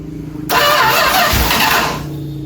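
A 1978 Dodge D150 pickup engine, sitting unused for 20 years, cranks and catches at once, roaring loudly for about a second and a half before settling back down, with a low rumble throughout.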